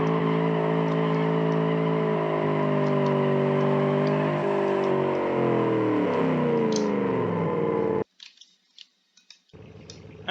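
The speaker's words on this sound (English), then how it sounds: "Let's drive up to the wall and then like you just drift" Car tires squeal in a long, continuous skid while drifting near a wall in the BeamNG driving game, a loud steady screech with shifting pitch that cuts off abruptly, leaving brief scattered noises.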